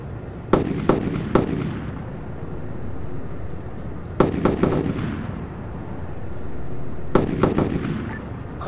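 Gunfire in the military video game Arma 3, short bursts of three or four sharp cracks each followed by a long rumbling tail, repeating three times over a steady background roar.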